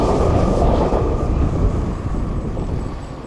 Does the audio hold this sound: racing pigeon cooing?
no